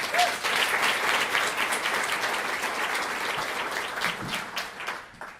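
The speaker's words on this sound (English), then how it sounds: "Can we start by giving them a round of applause?" An audience at a chamber of commerce legislative breakfast claps for newly confirmed board members, a dense burst of applause that holds for several seconds and then tapers off.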